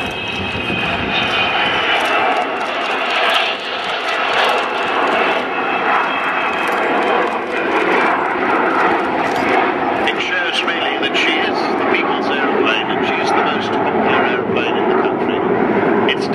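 A restored aeroplane's engines roar loudly and continuously at the Fairford air tattoo, a broad sustained drone filling the whole stretch while a voice speaks over it.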